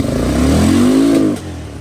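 Honda Big Red 250 or Yamaha Kodiak 450 ATV engine running close by just after a kick start, a steady throbbing idle that swells into a brief rev, then drops back and cuts off sharply, with no talk.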